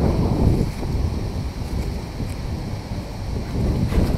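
Cold wind blowing steadily across a park by the water in New Zealand, rumbling and buffeting the microphone as a continuous, fairly loud roar throughout, with no talking.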